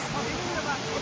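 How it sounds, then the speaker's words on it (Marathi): Amboli's main monsoon waterfall crashes down as a dense, steady roar of falling water, loud and close, with a voice briefly heard over it. "हा बघा, हा असा मुख्य धबधबा आहे."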